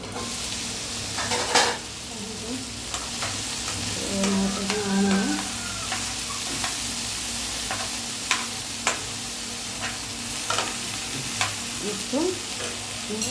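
Mint masala with salt being mixed and fried in a pan, with steady sizzling under repeated stirring strokes and occasional clinks of a spoon against the pan, close and moderately loud.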